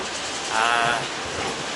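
Rolling train noise with a steady broadband rumble and hiss, swelling briefly in the middle with a tonal squeal, no talking.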